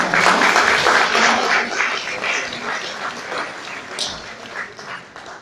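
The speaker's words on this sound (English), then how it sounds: "Yes, a round of applause." Audience applause following a round of thanks at a distinguished lecture, a dense clatter of clapping that starts strong and gradually thins out over several seconds.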